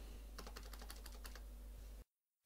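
Quick keystrokes on a computer keyboard, a short burst of close, light clicks that stops abruptly into silence.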